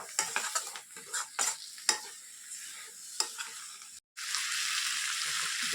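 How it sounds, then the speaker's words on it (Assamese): Chicken pieces are stirred into ground spices frying in a pan with banana stem, giving irregular scraping and clattering stirs over a soft sizzle, which swells into a steady, louder frying hiss after a short gap. "মাংসখিনি দি আকৌ ইয়াত মই ভালদৰে লৰাই দিম।"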